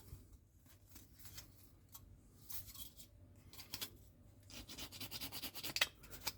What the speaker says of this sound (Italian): Vado a controllarmi se c'è qualche sbavatura con una piccola lima